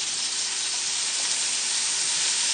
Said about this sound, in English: Oh, it's a nice sizzle happening there.